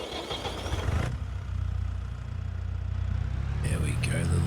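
A small Landini tractor engine in Farming Simulator 22 starts up and settles into a steady low idle rumble, with someone talking over the first second and again at the end.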